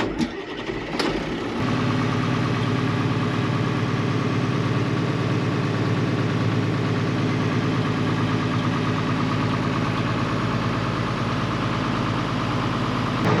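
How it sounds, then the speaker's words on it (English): A Kubota tractor engine starts up and settles into a steady, close idle, a continuous low mechanical rumble with a brief burst of handling noise at the start. "Shall we bring the Kubota?"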